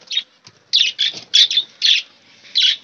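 Pet budgies and finches in a cage chirp close by, about seven sharp, bright bursts in an uneven rhythm separated by brief silences.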